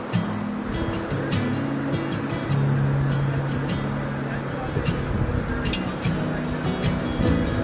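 Canoe paddling on the Connecticut River, with steady water wash and broadband noise throughout, and voices talking over it.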